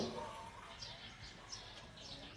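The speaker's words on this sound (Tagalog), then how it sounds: "yung huni ng mga ibon," Birds chirp in a rural Philippine village setting, short high tweets recurring across the clip over a steady background hiss, moderately distant and fairly faint.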